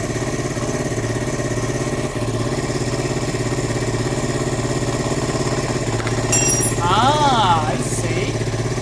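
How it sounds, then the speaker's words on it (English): Motorcycle engine idling with a rapid, even chuffing pulse that holds steady, then revs swell slightly toward the end, close and fairly loud, with someone talking over it. "The revs increase now"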